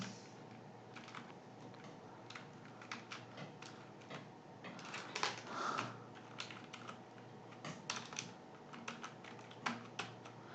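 Steady typing on a computer keyboard, a run of quick, irregular clicks and taps at close range with no voices, as a short message is written.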